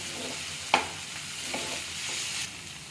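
Mushrooms sizzling on a tawa over a gas flame, a steady soft frying hiss with a sharp utensil knock and a few light scraping stirs.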